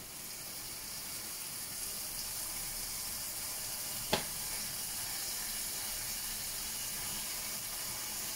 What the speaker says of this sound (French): Maintenant, je vais baisser sur le moyen et je vais venir saisir la côte de bœuf.